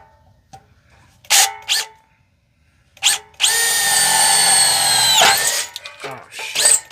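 Power drill boring into the metal body of a 4x4 Astro van, starting in short bursts then running in a long steady whine before stopping abruptly; close and loud, with brief shorter bursts after.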